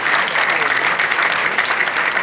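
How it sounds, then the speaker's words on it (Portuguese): A crowd at a union anniversary ceremony claps warmly and continuously for a state governor, the dense applause holding steady and fairly loud throughout. "eu quero pedir uma salva de palmas para o nosso governador Renato Casagrande."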